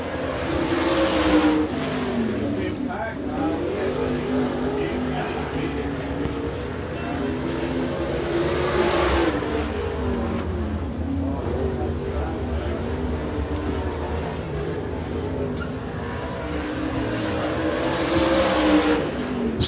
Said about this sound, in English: Qualify the first car coming out on the racetrack out of Murphy, North Carolina